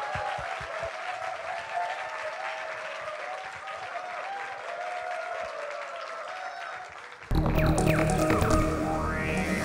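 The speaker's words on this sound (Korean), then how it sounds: "큰 박수 부탁드립니다." An audience at a Korean talk event breaks into sustained applause, a dense wash of clapping that swells louder toward the end, with no speech over it.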